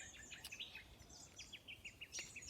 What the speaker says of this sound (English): By the way, I chose this spot because of the birds.